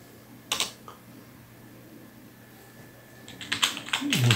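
A computer keyboard is typed on in short bursts, a brief clatter early on followed by a quiet pause, then denser, louder keystrokes building toward the end.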